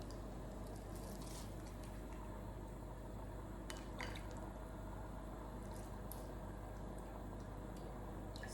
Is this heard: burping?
no